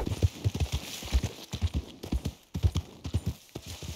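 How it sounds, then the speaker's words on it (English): Horse hooves clip-clop steadily at a trot in the Red Dead Online video game, a close, rhythmic run of hoofbeats with no talk over them. "Where's my goddamn horse?"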